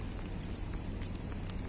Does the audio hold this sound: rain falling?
yes